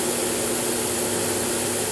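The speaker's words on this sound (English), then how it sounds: "As you can see, the Demon puts down a tremendous amount of water" A Steamin Demon carpet extractor sprays and extracts water with a constant dense hiss and whine of its vacuum system, steady throughout and cutting off abruptly at the end.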